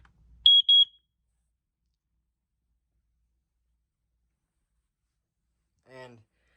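An LED-flash home smoke alarm gives two short, piercing high beeps in quick succession, then near-silence follows until a brief low voice speaks toward the end.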